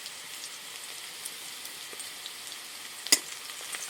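Crushed garlic and onion fry in oil with a steady, fairly quiet sizzle and crackle, with one sharper pop near the end and no voices.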